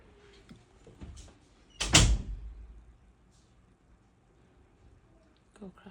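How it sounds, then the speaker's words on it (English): A door is pushed shut in a home, one sharp bang near the middle with a short rumble after, among soft shuffling and a later faint knock. "Can you shut the door and film me?"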